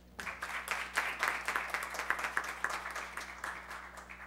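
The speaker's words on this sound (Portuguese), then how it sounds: "eu peço dos senhores e das senhoras uma salva de palmas" An audience at a public hearing in honor of librarians gives a short round of applause, a brisk rhythmic clapping from a moderately sized crowd that stays fairly faint and steady.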